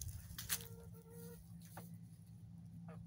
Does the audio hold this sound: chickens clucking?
yes